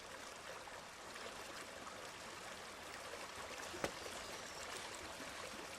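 Steady, full rushing of creek water flowing in North County, continuous and fairly close, with one brief sharp click partway through and no voices.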